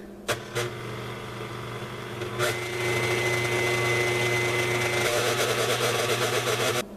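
An electric mixer hums steadily at low speed as it beats peppermint meringue. The drone is close and continuous and grows a little fuller partway through, with a couple of short knocks near the start.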